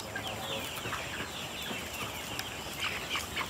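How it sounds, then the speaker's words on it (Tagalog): Dekalb brown chickens cluck softly and continuously in a pen, several birds murmuring together at a faint, steady level with scattered small clucks and rustles. "Ang cute naman ng mga manok na to"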